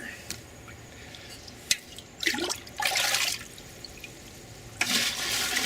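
Homemade fermented liquid fertilizer poured from a kettle into 4-gallon buckets, with bursts of splashing and gurgling liquid, a few drips and clanks, and faint voices.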